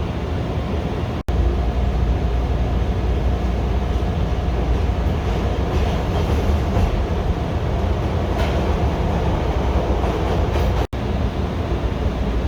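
A steady, loud rumble of a moving Chicago Orange Line train, continuous rolling noise from inside a carriage, with faint rattles and two brief dropouts.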